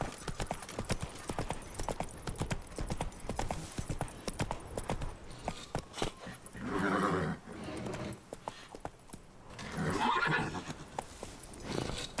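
Roach, the horse in The Witcher 3: Blood and Wine, clip-clops along in a steady hoofbeat rhythm, with louder swells and a couple of whinnies breaking through near the end.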